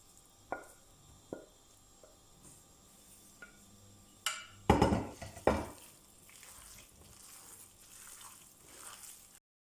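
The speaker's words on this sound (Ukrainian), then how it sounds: "Охоловші овочі вкидаємо до фаршу і знову ретельно все перемішуємо." Minced meat is mixed thoroughly with cooled vegetables in a bowl for a meat roll. A few sharp clinks come first, then a burst of close, wet squelching and clattering stirring, followed by softer handling sounds, with no talk.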